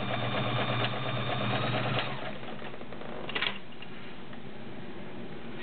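A Kenmore 1601 sewing machine stitches a 5mm zigzag with a close, even mechanical whirring and rhythmic clatter that slows and fades into a quieter background hum.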